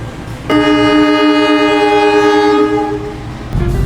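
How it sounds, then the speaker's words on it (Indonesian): The Logawa passenger train departs Sidoarjo station, its horn sounding one long, loud, steady blast near at hand over rumbling rail noise, then cutting off as the engine's low roar swells again. "tepat waktu kereta api Logawa diberangkatkan dari stasiun Sidoarjo"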